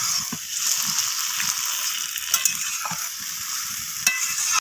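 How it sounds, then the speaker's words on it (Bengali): Bhetki fish head and Malabar spinach leaves in a frying pan, stirred with a few scraping knocks of a spoon over a continuous bright sizzle, close and fairly loud, with no voices. "আমি এখানে দিয়ে দিলাম পুঁই শাকের পাতাগুলোকে। সমস্ত কিছু আবারও একটু নাড়াচাড়া করে নিচ্ছি।"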